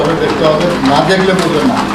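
Fancy pigeons coo softly in a loft amid continuous nearby talking, the low cooing notes partly masked by voices.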